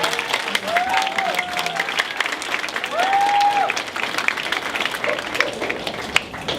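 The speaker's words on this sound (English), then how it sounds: "So let's give them a big round of applause together." At a fifth-grade graduation, a crowd claps warmly and continuously for the graduates, a full, close wash of applause with a few cheering voices rising above it.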